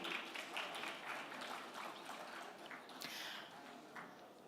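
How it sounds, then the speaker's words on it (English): Sparse, tired applause from a conference audience at a debt and development event, a scattering of claps spread across the room at moderate distance, fairly quiet and steady, with a few louder hand claps standing out. "One thing about that clap is that it clearly lacks the coffee energy, the tea energy, the breakfast energy"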